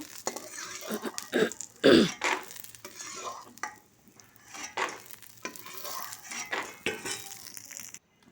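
Peanuts fry and are stirred in a pan with a spatula, giving irregular scraping and rattling strokes over a soft sizzle, close and fairly loud, with a few sharper knocks against the pan.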